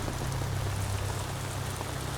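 Heavy rain pours steadily on the wilderness around a group sheltering in place. It is a dense, constant hiss with no breaks, close and enveloping, and no one speaks.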